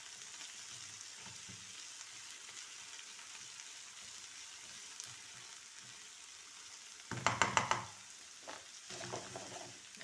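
Chicken pieces, garlic cloves and onion frying together in a pan, a soft steady sizzle with a few stirring scrapes and clatters near the end; no one speaks.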